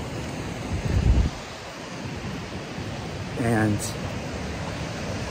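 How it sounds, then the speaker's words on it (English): Rushing mountain stream on the John Muir Trail near a bridge into Kings Canyon, a steady broadband wash of water with brief wind gusts and a short spoken word partway through. "just can never get enough of the mountain streams"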